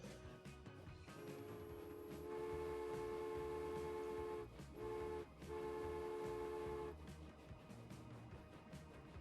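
A Baldwin six-wheel steam locomotive in Transport Fever hauls a 75% load up a steep incline, its whistle sounding in long sustained blasts with brief breaks over a low rumbling background.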